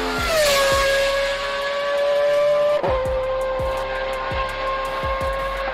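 A BMW 1 Series fitted with a Formula One engine revs toward 12,000 RPM, a loud, sustained high-pitched scream with strong intake noise. The note holds steady, with repeated rhythmic pulses underneath and a brief dip midway.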